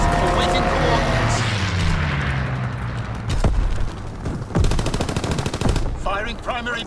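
Fighter plane strafing fire in Call of Duty WWII multiplayer, with loud rapid machine-gun bursts, booming impacts and explosions layered close together, while voices speak over the battle.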